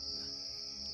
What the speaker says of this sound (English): There's crickets that are going off.